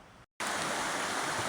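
Stream water rushes at a hiking-trail crossing, a steady close broadband wash that breaks off for a moment and then comes back strong and even.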